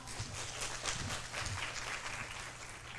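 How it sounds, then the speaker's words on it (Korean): Audience applause at a Korean university startup forum welcoming a speaker to the stage, a steady, fairly soft wash of many hands clapping at some distance, sustained evenly for a few seconds. "큰 박수 부탁드립니다"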